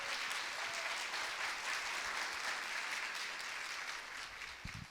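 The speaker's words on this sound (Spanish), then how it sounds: "Pero si es para Jesús, que sea con todas las fuerzas ese aplauso." A church congregation claps at a family service, the applause sustained, even and fairly distant, holding steady and fading slightly at the end.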